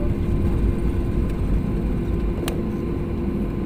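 Sriwijaya Air airliner engines roar steadily and loudly from inside the cabin as the plane turns on the runway before take-off, a dense continuous rumble with a faint click partway.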